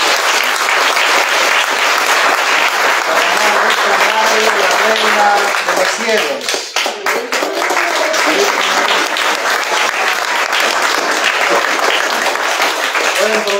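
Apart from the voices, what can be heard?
applause for Saint Francis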